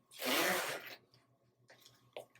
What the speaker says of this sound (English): Lift the zippers.